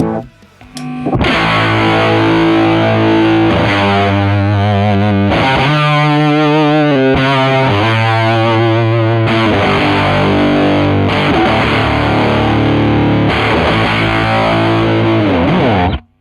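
Fuzzy, distorted electric guitar plays through a homemade amp built from pedals, with sustained chords and riffs changing every couple of seconds, loud and saturated throughout.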